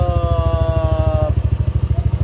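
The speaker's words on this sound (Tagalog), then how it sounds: "So ito na yung tunog ng makina." A motorcycle with an 8SR exhaust pipe and muffler idles steadily up close after parts were replaced, a loud even low pulsing throb with a faint whine fading out partway.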